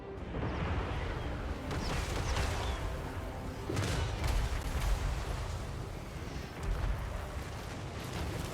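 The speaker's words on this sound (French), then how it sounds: "tes canons, ils tirent sur l'arrière-garde" Dense, continuous barrage of booming video game cannon blasts and rumbling gunfire from a fantasy battle of Empire versus Dwarves, heavy and loud throughout, chaotic, with repeated cannon shots layered together.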